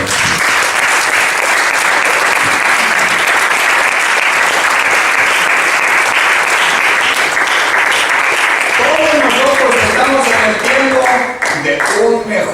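A church congregation gives loud, dense applause, a full roar of clapping that holds steady and then thins and tapers off near the end, with voices emerging as it fades.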